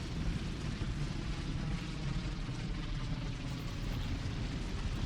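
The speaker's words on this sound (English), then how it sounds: "The centipedes sound like a plane taking off." Centipede enemies in the video game Hollow Knight give off a continuous low, roaring rumble much like a jet engine, steady and fairly quiet with no speech.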